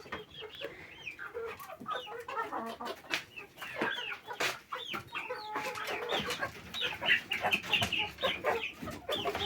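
A flock of chickens clucks steadily and close, with thin peeping chicks mixed in and busy overlapping calls throughout.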